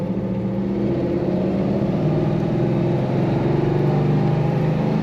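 A 1947 Ford Super Deluxe Business Coupe cruises down the road, its engine producing a steady, close, even drone with constant road and wind rumble and no talking.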